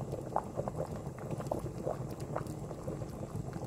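Sticky rice bubbling at a steady boil in a pot, a continuous low churning with scattered pops and gurgles throughout, close and fairly quiet, with no talking.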